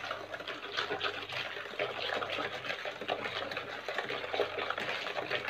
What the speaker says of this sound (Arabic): نضيفو زلافه ديال الماء